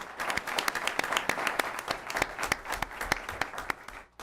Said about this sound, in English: A round of applause for them as well too, please.